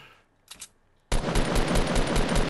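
Rapid automatic gunfire in the Fortnite Battle Royale video game, a brief pair of shots followed by a sustained loud burst of continuous firing, close and dominant with no talking.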